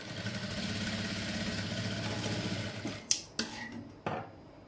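A sewing machine stitches darts on the front piece of a blouse, running in a steady, even mechanical whir for about three seconds. It stops, and a few sharp clicks and clacks follow as the fabric is handled.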